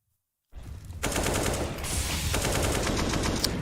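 Rapid automatic gunfire from a CS:GO professional match between NAVI and FaZe at the ESL Pro League, starting after a short silence and building into a loud, continuous burst of shots with sharp cracks over a dense background.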